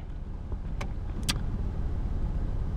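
Inside a car, the engine idles as a low, steady rumble after a couple of short mechanical clicks near the start, continuous and fairly close.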